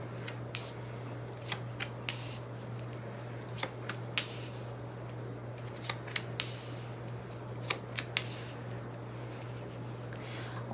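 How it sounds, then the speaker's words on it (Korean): Tarot cards are placed and laid out on a table, producing soft scattered taps and quick papery flicks over a constant low electrical hum. "저도 이렇게 카드를 놓으면서 카드를 살펴보고 또 어떤 의미들인지 그리고 어떤 느낌인지를 좀 살피면서 이렇게 카드를 두거든요"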